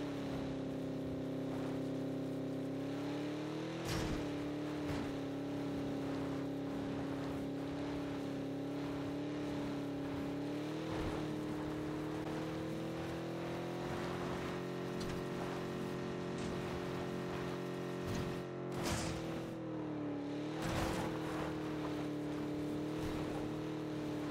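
Motorbike engine with a brake exhaust in the game PUBG, a steady droning hum that holds on throughout with slight pitch swells, loud and continuous with no talk.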